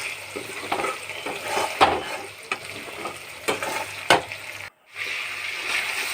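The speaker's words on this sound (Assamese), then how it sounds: "এতিয়া মই চিকেনখিনি অলপমান গল্ডেন ব্ৰাউন হোৱালৈকে ভাজি লৈছোঁ" Chicken pieces frying in a hot pan until golden brown, a steady sizzle with repeated scraping stir strokes and a brief pause near the end, no talking.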